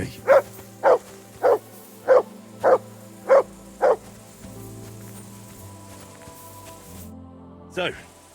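A dog named Mats barks in Kingdom Come Deliverance 2: seven sharp, evenly spaced barks close by, followed by a steady low in-game ambient hum.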